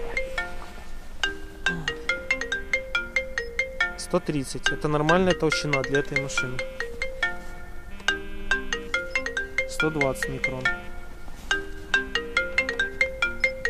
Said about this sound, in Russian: Телефон звонит, но пусть звонит.